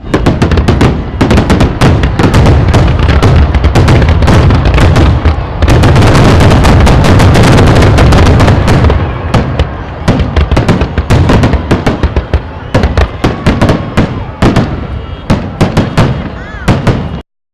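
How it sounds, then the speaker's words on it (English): A Fourth of July fireworks show at the Pahrump Nugget bursts in loud, rapid, crackling volleys of explosions and pops, dense at first and then thinning into scattered booms, with voices in the crowd faintly underneath. "To see the entire Pahrump Nugget fireworks show"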